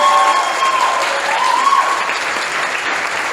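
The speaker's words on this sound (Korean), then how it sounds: "박수하겠습니다." A church congregation during a Sunday service claps together, loud continuous applause held steady throughout.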